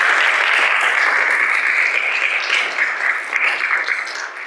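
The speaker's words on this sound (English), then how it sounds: "I think that Marco Bardazzi deserves another round of applause." Sustained audience applause closing a university lecture on digital transformation in the news industry, a dense, steady wash of many hands clapping at once, loud and continuous throughout with no voices rising above it.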